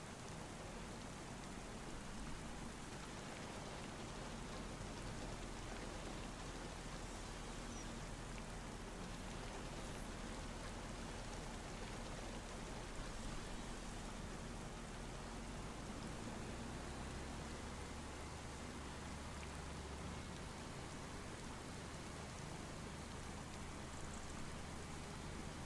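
Steady, even rain hisses throughout in a logging video game, with a dense, unbroken wash of drops that stays constant in level and has no voices over it.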